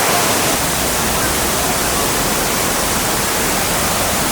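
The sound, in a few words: Kuang Si waterfall in Laos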